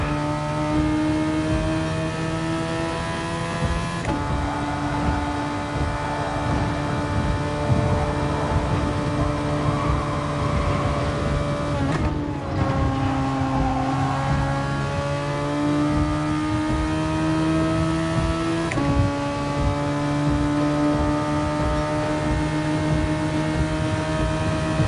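A Ferrari race car engine drones in a racing video game, a loud, sustained high-pitched whine whose pitch shifts and briefly drops around gear changes before climbing again, with no talking.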